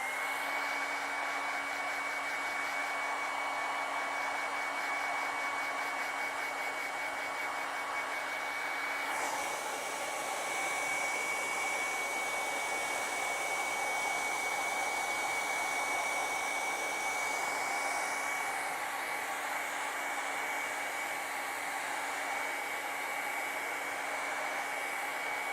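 A hair dryer runs steadily on wet acrylic paint, a loud continuous whine with a constant hum throughout; partway through, its airflow tone shifts brighter, then settles again near the end.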